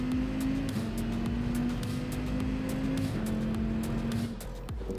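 A race car in Gran Turismo 7 drives into the pit lane, its steady droning engine note holding loud and close, then shifting down with a brief drop at the end.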